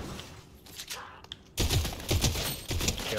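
Assault rifle fire in Fortnite, rapid bursts of sharp shots starting abruptly after a quieter stretch and continuing loud and close, with a voice talking faintly alongside.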